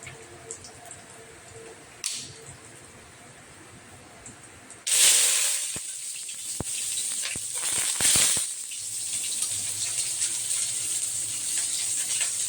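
Cumin seeds hitting hot oil in a pan burst into a loud sizzling hiss that keeps crackling and spluttering steadily, after a quieter stretch of kitchen background.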